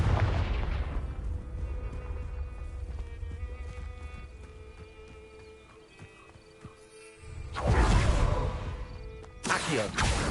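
Confringo spell blasts in the Hogwarts Legacy video game, a loud booming burst at the start followed by a quieter rumbling stretch, then two more heavy bursts near the end.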